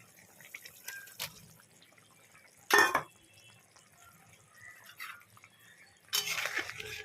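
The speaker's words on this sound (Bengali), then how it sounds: "ঝোলটা ফুটে আসছে" Curry gravy boils in a pan just before paneer goes in. Soft, sparse bubbling pops and drips break the quiet, with a few louder splashy bursts. No one speaks.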